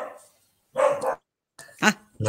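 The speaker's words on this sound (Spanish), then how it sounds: "Un perro. Le oye un perro." A dog barks at a distance during an outdoor evening literary gathering. The barks are separate and irregular, and gaps of silence lie between them.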